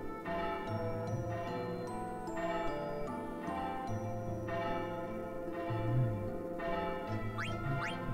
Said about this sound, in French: Donc, pour la peine, j'aurai les cloches pendant quelques minutes.